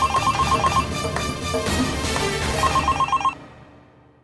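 A telephone rings loudly in repeated electronic bursts, then stops abruptly and fades out.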